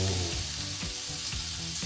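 Sous vide steak searing in a hot, smoking pan gives a steady close sizzle and crackle of frying fat, loud and continuous throughout with no voices.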